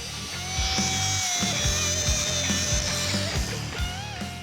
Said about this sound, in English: we'll use our wire cup to get as much of the surface rust off as we can before we hit it with some paint